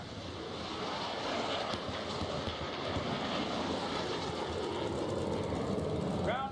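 A North American Rockwell jet roars through a low, fast pass with afterburner lit at an airshow, a loud, sustained broadband rush that holds steady throughout, with a crowd and announcer faintly underneath.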